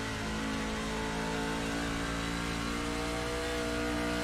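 A race car engine in a racing video game revs hard and steadily as the tires fight for grip, a loud, sustained mid-pitched drone with harmonic whine running throughout.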